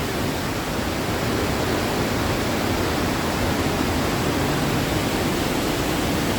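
Loud water rushes over the dam at Buckeye Lake, a dense, steady roar of broadband noise with no breaks throughout.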